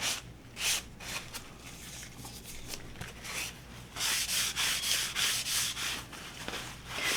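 Gloved hands rub wood stain off a small Dollar Tree wooden sconce with a rag, making close, faint, irregular scrubbing strokes that come in bursts, alone without talk.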